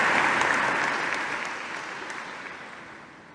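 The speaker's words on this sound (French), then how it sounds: "On peut les applaudir une nouvelle fois." Applause from an audience at an International Women's Day event in Mauritius, greeting two performing artists; dense, steady clapping that starts loud and slowly fades over a few seconds, with no talk over it.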